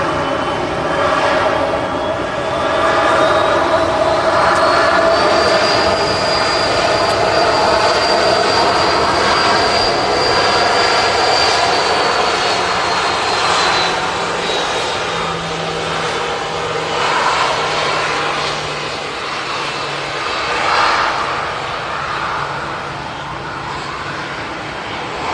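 An ATR 72 turboprop airliner at Manchester Airport produces a loud, sustained engine drone with a rising and falling propeller whine as it moves past, continuous for about twenty-five seconds under steady outdoor background noise.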